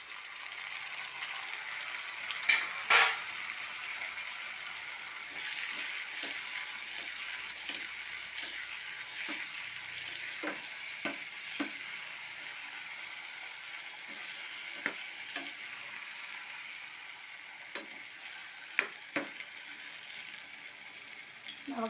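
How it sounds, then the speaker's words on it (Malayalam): Chopped tomatoes sizzle steadily in a hot pan with turmeric for thakkali chutney, a continuous close frying hiss broken by occasional clinks and scrapes of stirring. "ഇനി നമുക്ക് ആ തക്കാളി അരിഞ്ഞത് അതും അങ്ങ് ഇട്ട് കൊടുക്കാം"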